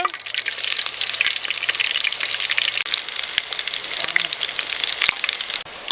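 Garlic and dried red chillies fry in hot oil for a buttermilk rasam tempering, giving a steady, close, dense sizzle with scattered small pops throughout and no voices.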